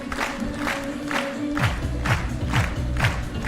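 An athletics crowd at a high jump meeting in Heilbronn claps in rhythmic unison for a jumper, with cheers and whoops over a steady, rising beat of clapping.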